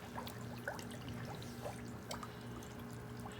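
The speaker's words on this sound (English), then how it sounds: "Got a fountain pump. It is at the bottom of the hot tub right here." A fountain pump at the bottom of a DIY hot tub keeps water moving, heard as a faint, steady trickle with small splashes over a low hum.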